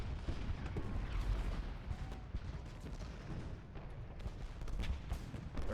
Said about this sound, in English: Our shell fire alone must be taking an incredible toll.